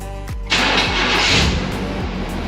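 A car engine turns over with a brief crank when the remote start is triggered, catches abruptly, and settles into a loud, steady run close by.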